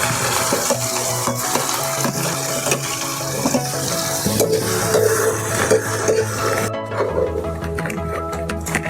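Chopped onions fry for kaju gathiya in a pan, hissing and bubbling steadily with stirring scrapes and clatter near the microphone. The sizzle quiets abruptly near the end.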